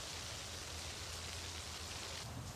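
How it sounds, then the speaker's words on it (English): Rain falls in a steady, even hiss of broadband noise over about two and a half seconds, faint and alone with no voices. "Oh, no, it's raining."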